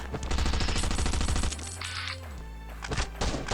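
Rapid automatic gunfire from the survival video game Last Island of Survival rattles loud and close in a fast burst, then a brief lull and a few more shots.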